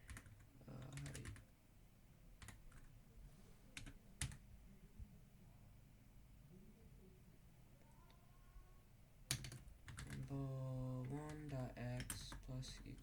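Code is typed on a computer keyboard in quick, light clusters of keystrokes, close and fairly quiet, with pauses between runs and someone speaking over part of it.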